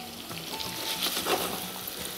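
Ingredients for mushroom soup frying in a pan, a soft, steady sizzle with light stirring and scraping noises at moderate distance, no talk.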